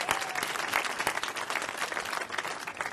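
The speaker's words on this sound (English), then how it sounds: "Give yourself a round of applause." A crowd at a tree-planting ceremony applauding steadily, dense clapping filling the whole stretch with a few louder bursts.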